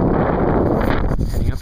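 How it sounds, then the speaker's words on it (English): Strong wind blasts across the microphone near a mountain summit on Geomjungsan, a loud, steady roaring rush with gusty buffeting, close and filling the whole clip. "Hope you guys can stand the sound of the wind right now."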